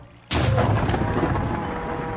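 A single gunshot from a gun in Minecraft's Balkon's Weapons Mod fires once after a brief quiet moment, a loud sharp blast that is followed by a rumbling decay.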